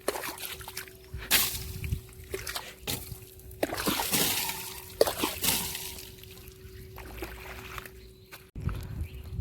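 A car washed down with water makes irregular bursts of splashing and sloshing, with trickles between them and a steady faint hum underneath.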